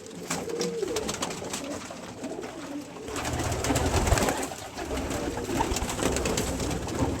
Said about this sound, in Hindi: ये मोतियों वाला कबूतर है, उसका बच्चा।